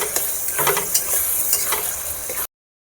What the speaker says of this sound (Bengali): আদা বাটা, কেটে রাখা টমেটো ভালো করে ভেজে নেব।